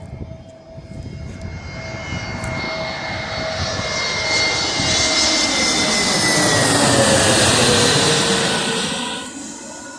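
An Airbus A320neo jet takes off at Birmingham Airport, a powerful engine roar that swells and builds to a loud peak, then begins to fade, with a steady whine running through it and no talk.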